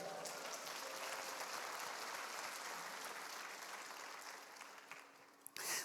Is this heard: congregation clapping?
yes